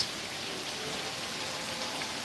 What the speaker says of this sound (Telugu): వర్షాకాలంలో వర్షం కానీ అంత ఇదిగా పడుతూనే ఉంది వర్షం అయితే ఫుల్ వర్షం